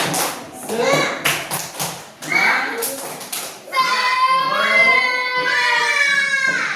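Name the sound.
children doing rhythmic spirit clap (tepuk semangat)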